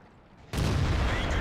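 A tank cannon fires in the video game World of Tanks, playing the French AMX AC mle 1948, one sudden loud boom that rolls into a sustained heavy rumble after a quiet start.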